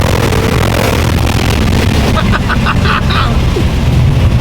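A Whipple-supercharged car launches hard and accelerates, its loud roaring engine filling the scene throughout with a brief change in tone partway, while excited voices shout over it.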